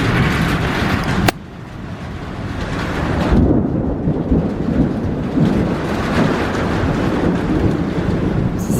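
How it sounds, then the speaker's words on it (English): Steady rain during a thunderstorm, a dense hiss that stays loud and continuous after a sharp crack near the start, with low rumbling underneath. "Now it's starting to rain again"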